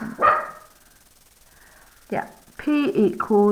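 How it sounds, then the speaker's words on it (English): A pet dog barks twice in a home during a maths tutoring session, then a longer run of loud, close barks and yips follows, with a person talking briefly in between. "Sorry about my dog."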